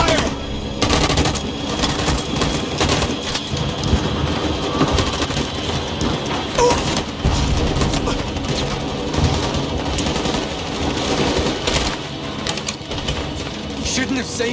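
A firing squad in Detroit: Become Human opens fire in dense, rapid volleys of gunshots that carry on almost without break, loud and chaotic, with voices shouting beneath them.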